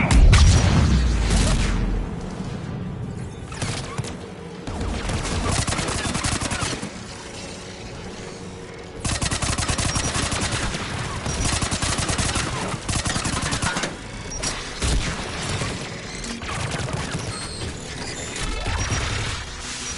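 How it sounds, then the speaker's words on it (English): Anti-aircraft guns fire in a PS4 video game, with dense, loud, sustained bursts of rapid shots and booms that rattle on almost without pause for the whole stretch. "AA guns ahead."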